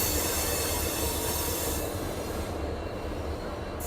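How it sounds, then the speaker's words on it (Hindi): The Jaipur–Jodhpur Intercity train rushes past nearby with a loud, steady roar of rolling wagons and faint wheel squeal, easing slightly toward the end. "ओहो, जयपुर जोधपुर इंटरसिटी।"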